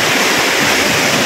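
Rushing water at a monsoon-season waterfall in the Udayagiri hills of Nellore district: a loud, steady, close broadband roar that never lets up, with no voices over it.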